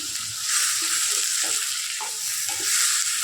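Five medium-cut tomatoes with salt stirred and cooking in a pan, a steady bright frying hiss throughout with soft low scraping from the stirring.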